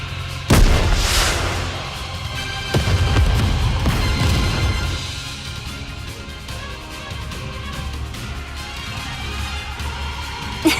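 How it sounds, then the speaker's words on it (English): Heavy explosion blasts from the mobile shooter game Goddess of Victory: NIKKE, a sharp boom near the start and another mid-clip, followed by rumbling debris and a sustained roaring wash that slowly fades. "What an explosion!"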